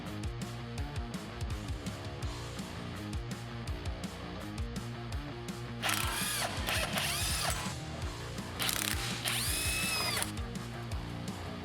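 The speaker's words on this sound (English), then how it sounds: "the Matco half-inch brushless impact easily removes stubborn crank bolts" A Matco MCL2012BIWK half-inch brushless cordless impact wrench hammers out stubborn crank bolts in two loud rattling bursts over a steady background of music.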